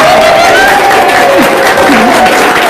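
An audience claps loudly and steadily for a few seconds, a dense burst of applause with faint voices mixed in.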